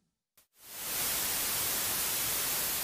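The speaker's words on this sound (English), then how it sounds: "We'll start with a bit of white noise." White noise from the noise generator of an Omnisphere synthesizer, switching on after a short silence and blip, then a steady, loud, hissing wash across the whole range, held without variation.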